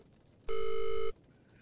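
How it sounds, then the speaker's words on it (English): A telephone ringing in the horror video game Visage, a single loud electronic ring lasting about half a second, alone against a quiet background. "Hang up the goddamn phone!"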